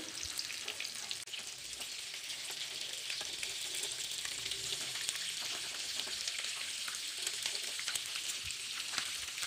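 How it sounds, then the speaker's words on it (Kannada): Eggs for a green egg fry crackle in oil over a low flame, a close, even sizzle that hisses without pause for the whole stretch. "ಕಮ್ಮಿ ಫ್ಲೇಮಲ್ಲಿ ಇಟ್ಕೊಂಡು 1-2 ನಿಮಿಷ ಎಣ್ಣೆಯಲ್ಲಿ ಈ ಥರ ಫ್ರೈ ಮಾಡ್ಕೊಳ್ಳಿ"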